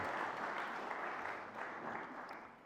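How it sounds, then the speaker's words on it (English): Wedding guests in a church applaud after a reading. A dense, steady patter of many hands clapping fills the room and slowly tapers off. "Yeah, we can applaud."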